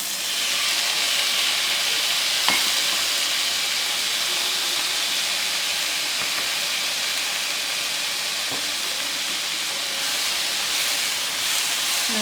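Cherry tomatoes and garlic frying in a very hot pan, giving a steady, loud broadband sizzle and hiss throughout, with a few brief clicks and pops from the oil.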